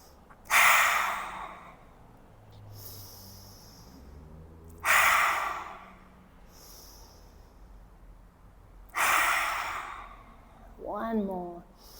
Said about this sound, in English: we'll continue our lion's breath, charging it with whatever feels potent to release